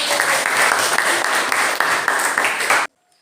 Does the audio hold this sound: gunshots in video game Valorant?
no